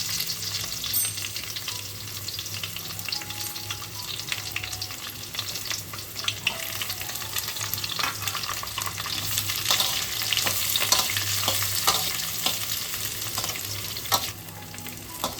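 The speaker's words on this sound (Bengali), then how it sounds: "এবার আমি কুচনো পেঁয়াজ দিয়ে দিচ্ছি।" Chopped onions fry in a pan of oil for a pulao and pineapple chicken dish, with a continuous close sizzle and crackle plus frequent clicks of a stirring spoon throughout.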